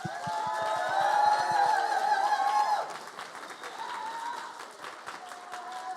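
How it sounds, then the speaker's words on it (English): An audience applauds and cheers for new drag performers at a live show, a dense crowd sound that swells and then thins. Voices and whoops rise over the clapping. "give them a big round of applause"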